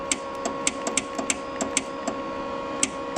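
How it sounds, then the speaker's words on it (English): A solenoid inside a cheap budget welder clicks over and over in an irregular rhythm, sharp and close, riding over a steady electrical hum. "I hear a solenoid clicking"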